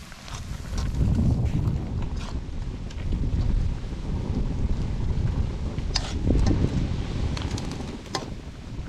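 Strong wind blows outdoors, buffeting the microphone with a continuous low rumble and rustling throughout, with a few brief knocks and no speech.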